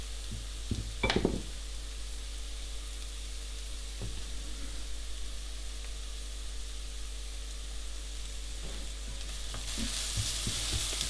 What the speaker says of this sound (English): Incorporate that fully with the onions and then just cook for a further 5 minutes.